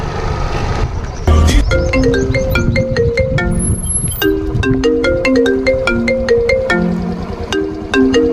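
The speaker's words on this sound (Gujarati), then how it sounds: "રવિનાનો ફોન છે." A phone ringtone for an incoming call plays a bright, repeating melodic tone pattern, loud and close, continuing steadily for several seconds with faint background noise beneath it.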